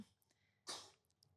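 A single short sneeze bursts out at a moderate distance, sharp and breathy, from a small baby sitting in a corner of the room, then fades into quiet room tone.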